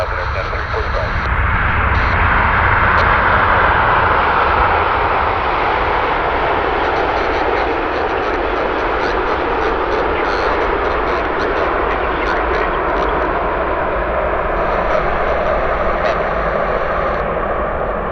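An airliner passing near Vancouver's YVR airport, a loud continuous engine roar that swells early and holds steady, with air traffic control radio chatter heard over it.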